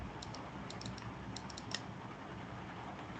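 Keys clatter on a computer keyboard in quick irregular bursts of soft clicks, faint beneath a steady background hiss, with no one speaking.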